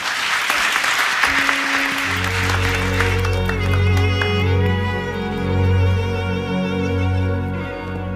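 Applause from an audience giving an actor a standing ovation, broad and sustained at first, then fading under swelling music with sustained tones.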